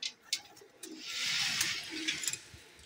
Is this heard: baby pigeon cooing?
yes